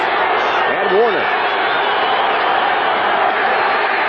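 A stadium crowd roars at Three Rivers Stadium during a 1987 NFL football game between Seattle and Pittsburgh, a steady far-off wash of noise that stays loud throughout, with a brief voice near the start.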